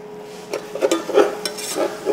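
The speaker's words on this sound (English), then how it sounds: "Hear that nice sizzle in there." Tagliatelle pasta sizzling in a pan with butter and a splash of cooking liquid, a steady close frying hiss broken by soft stirring scrapes and small pops over about two seconds.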